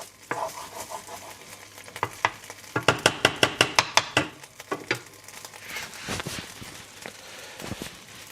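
Meat for an old-school lasagne sears in a Dutch oven, a steady sizzle under a run of sharp, rhythmic scraping and stirring clatters from a utensil against the pot, close and fairly loud.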